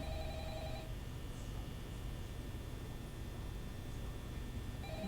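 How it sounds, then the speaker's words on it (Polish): A telephone rings in the horror video game Five Nights at Freddy's, with faint electronic ring bursts at the start and again at the end over a low, steady hum. "teraz odbierzmy telefon."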